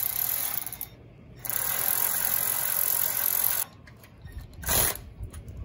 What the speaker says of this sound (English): just use a 13 ratchet underneath to tighten it